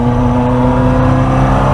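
An Opel Manta B2 with a red-top 16v engine revs hard while climbing uphill, a loud, close, steady harmonic drone sustained through the whole short stretch with no voices.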